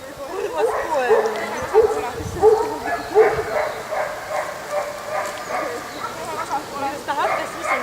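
At a dog sport competition, a dog gives a series of short, evenly spaced barks and yips, fairly close, while people talk nearby.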